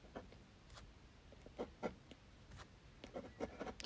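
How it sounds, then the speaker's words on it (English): Soft, quick scratchy strokes of a card scraped across watercolour paint on a Christmas card, faint and close, several short rasps in an uneven rhythm. "scraping the card across the paint, and you get a lovely texture."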